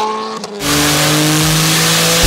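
A turbocharged car pulls away hard and shifts into second gear, the engine dropping briefly then roaring up in a loud, sustained rising drone, heard close from on board.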